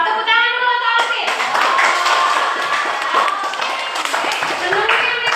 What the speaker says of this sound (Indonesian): tepuk tangan dulu untuk Alvin.